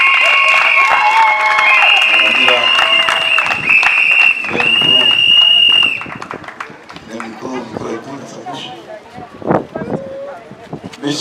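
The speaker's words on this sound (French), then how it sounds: "Est-ce qu'on peut applaudir le maire de cérémonie?" Crowd applause at a public anniversary gathering in Côte d'Ivoire, greeting the master of ceremonies: loud, dense clapping with cheers and a few whistles for about six seconds, then thinning into scattered claps and voices.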